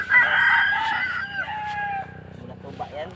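A rooster crows nearby, one loud drawn-out call that fades into softer clucking, with a voice faintly present underneath.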